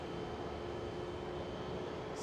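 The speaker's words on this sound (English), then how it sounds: "We do have another departure from runway 18 left." A Boeing 737-800 airliner departing runway 18 Left at Schiphol gives a steady, distant broadband engine roar with a faint tonal hum, continuous and unbroken throughout.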